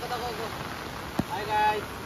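Steady rain hisses down on surfaces with a constant wash of noise, broken by a single sharp drop or tap midway.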